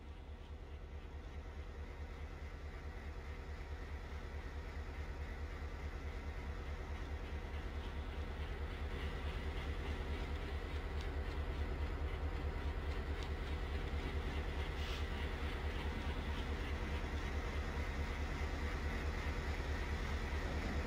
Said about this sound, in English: the first 4500 horsepower EMD locomotive, and the legend himself, the first WG4 of Indian Railways